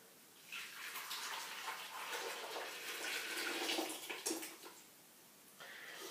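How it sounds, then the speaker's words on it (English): Cinnamon ginger golden milk being poured into a bowl, a continuous splashing liquid rush that swells and fades over several seconds, close up and fairly loud, with no talking. "And then you can pour it inside very easily."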